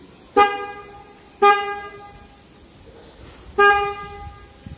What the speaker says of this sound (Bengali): এই হর্নটা যখন আমি ডান পাশে প্রেস করব, দেখবেন একটু হর্নটা প্রেস করি